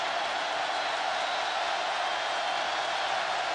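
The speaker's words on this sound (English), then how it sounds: "Crowd really getting into it for the Ole Miss defense." A stadium crowd cheering for the Ole Miss defense at a 2010 college football game against Alabama, heard as a steady, distant roar of massed voices with no breaks.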